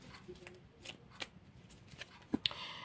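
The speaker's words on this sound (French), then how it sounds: "je vais tirer une dernière carte qui va permettre de conclure le tirage" Tarot cards shuffle and slide softly against one another as a single card is drawn from the deck, producing quiet papery flicks and taps up close.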